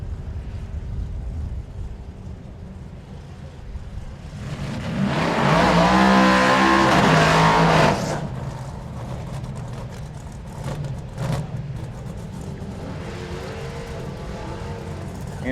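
James Goad's Chevelle drag car launches down the drag strip at Hot Rod Drag Week 2012, and a loud roaring engine burst lasting a few seconds rises over the crowd-and-track ambience, then fades away.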